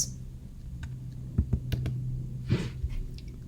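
Someone types on a computer keyboard, a few sharp clicks and taps scattered irregularly over a steady low background hum.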